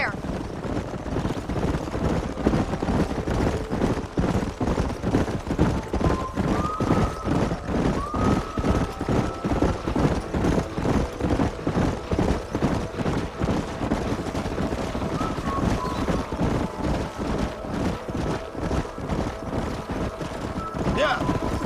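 Wild horses gallop in Red Dead Redemption, a dense, continuous drumming of hooves over rough ground with occasional high neighs and whinnies rising above the rumble throughout.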